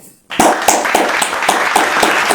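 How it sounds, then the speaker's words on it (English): An awards-ceremony audience at a wrestling event gives a round of applause. Sharp claps come in an even, rhythmic beat, loud and close, after a brief quiet start. "let's give a round of applause to those gentlemen"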